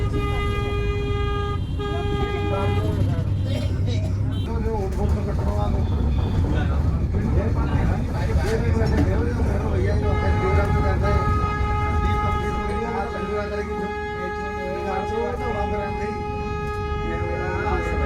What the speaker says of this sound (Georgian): აი როგორი ავტობუსებით დავდივარ შიდა გადაადგილებები.